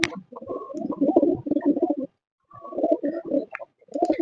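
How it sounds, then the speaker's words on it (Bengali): Domestic pigeons on a pigeon farm coo close by in low, throaty, repeated phrases, broken by short pauses. "বন্ধুরা তোমাদের একটু আমাদের কবুতরগুলো কাছ থেকে দেখাই"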